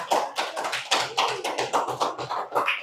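A class of students clapping together in a classroom, a dense run of quick hand claps in uneven bursts for about three seconds, close and fairly loud, with no talking.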